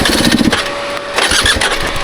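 Dirt bike engine revving loudly on a rugged Idaho mountain trail, a steady close-up mechanical drone with rising and falling throttle over about two seconds.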